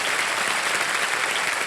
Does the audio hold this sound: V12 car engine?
no